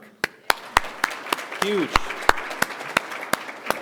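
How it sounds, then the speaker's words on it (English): Scattered, individual hand claps from a small audience at an annual scholarship celebration, about a dozen sharp, evenly spaced claps, with a voice briefly speaking partway through. "How about a round of applause for crossing through the 7-figure mark?"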